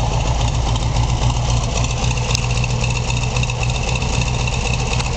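A 1957 Porsche 356 Speedster replica with dual exhaust idles close by, a steady, even engine rumble that holds without change for about five seconds, with no voices.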